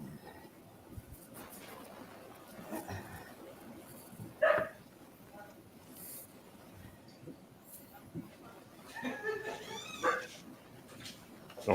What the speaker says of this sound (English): Daniel, you talking about my dogs? Yeah, they saw a squirrel fart or something